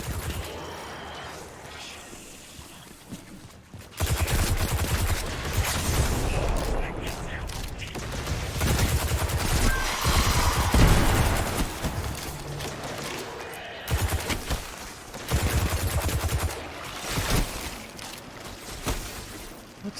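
Enemy gunfire in Destiny 2 comes as dense bursts of loud, rapid shots and impacts that start abruptly and keep going, mixed with heavy game action and occasional voices.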